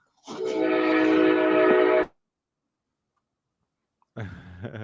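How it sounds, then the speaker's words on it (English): A freight train horn blares one loud, sustained blast lasting under two seconds, followed by silence and then a short burst of rumbling train noise. "I like the train ambiance"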